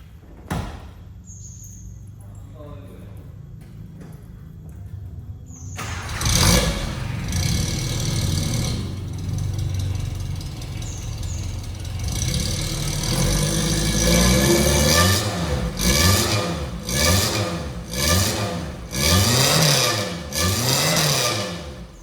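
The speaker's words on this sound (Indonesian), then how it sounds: "Nanti kita kasih cuplikan knalpotnya. Seperti ini suaranya." A restored JDM Katana's engine idles, then revs repeatedly through the exhaust, rising and falling in loud surges with a deep rumbling tone.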